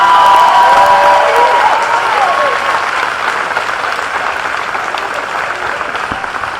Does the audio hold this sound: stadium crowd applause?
yes